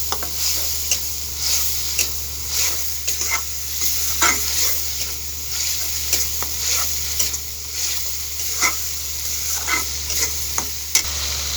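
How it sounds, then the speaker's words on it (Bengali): Ginger-garlic paste fries in hot oil for a giblet bhuna. It gives a steady sizzle, and rhythmic scraping stirs of a spatula in the pan come about once a second, close and fairly loud. "এটাকেও আমি একটু তেলে ভেজে নিচ্ছি।"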